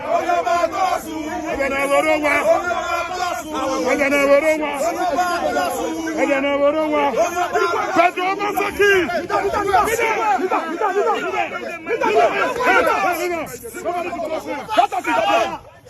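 A dense crowd at the Oba of Benin palace chatters and shouts nearby, the loud babble rising into rhythmic chanting that goes on throughout.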